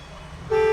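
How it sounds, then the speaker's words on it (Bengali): A short, loud car horn blast sounds near the end after a low background hum. "এটা হচ্ছে হর্ন। এটা চাপ দিলে শব্দ করবে"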